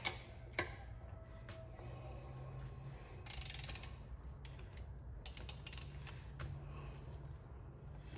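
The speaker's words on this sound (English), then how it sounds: "we pretty much torque it on there using the star pattern." Wheel lug nuts are tightened with a torque wrench in a star pattern, a faint run of ratcheting clicks and ticks over a constant low shop hum, with a few sharper clicks and no speech.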